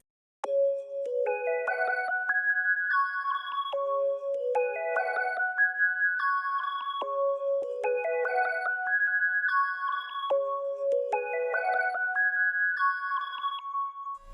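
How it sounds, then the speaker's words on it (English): Serum synth preset Key Pixie from the Bloom 2 kit plays a bright, bell-like plucked melody, a repeating four-part arpeggio phrase looping steadily and cleanly alone for about fourteen seconds. "I got this Serum preset from the new Bloom 2 kit."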